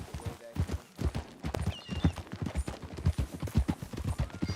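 Rapid rhythmic clip-clop of horse hooves at a trot in Red Dead Redemption 2, close and fairly loud, continuing steadily throughout.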